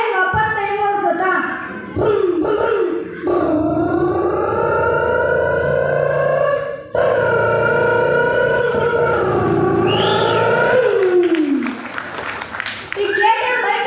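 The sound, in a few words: child imitating an auto-rickshaw engine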